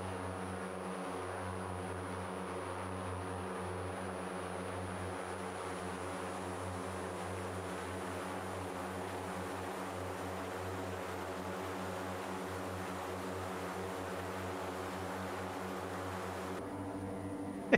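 An OV-10 Bronco twin-turboprop aircraft flies low in a flight simulator game, its propellers producing a steady, loud droning hum with constant pitch, uninterrupted and alone.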